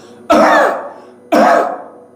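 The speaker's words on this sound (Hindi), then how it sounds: "इस तरह से जोर जोर से खांसी" Two loud, forceful coughs, close up, spaced about a second apart, each a sharp harsh burst that trails off.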